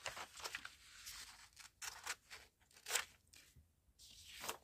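Paper or card being cut with scissors to free a small journal card from a masterboard, a series of quiet crisp snips and crunches in uneven bursts, close up with no talking.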